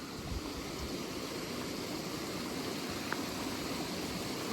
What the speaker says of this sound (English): Wow, that is a lot of water coming down.